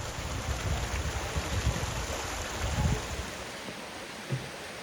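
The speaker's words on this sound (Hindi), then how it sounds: "रास्ते के साथ साथ ये छोटी सी जलधारा भी बहती है" A small Himachal mountain stream runs low in winter beside a trail near Jibhi, giving a steady, soft wash of flowing water with no voices over it.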